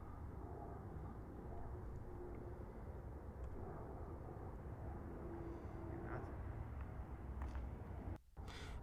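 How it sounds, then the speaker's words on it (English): A steady, droning whir of airplane engines fills the air, constant and somewhat distant, with a brief dip near the end. "You can hear the whirring of the engines"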